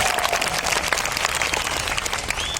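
An audience at a live comedy and mimicry performance breaks into loud, sustained applause, dense clapping continuing evenly throughout.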